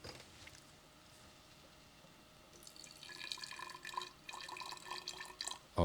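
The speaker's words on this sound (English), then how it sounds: "10 milliliters of ethanol, be pouring it onto my polymer" Ethanol poured while measuring out 10 milliliters for dissolving a polymer in a lab, heard as a light liquid trickle that grows busier and louder in the second half, with a brief bump right at the end.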